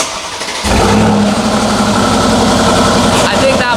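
A car engine, part of a Lamborghini Huracan STO collection, cranks and fires up, then settles into a loud, steady idle that carries on close by, with people talking over it.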